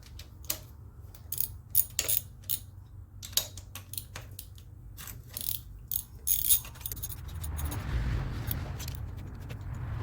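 A ratchet works on the intake of a Chevy small-block 350 engine during teardown, heard as rapid metallic clicking in short bursts. Later a low rumbling hum builds underneath and continues to the end.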